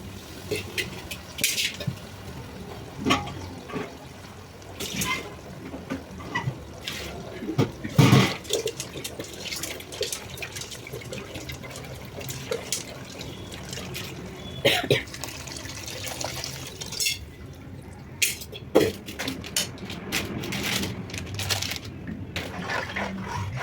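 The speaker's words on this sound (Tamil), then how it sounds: "புளியை கரைச்சி ஊற்றிடலாம்." Dissolved tamarind water poured into a cooking pot, giving splashy liquid sounds amid kitchen clatter and handling noises, with several sharper knocks over a steady background.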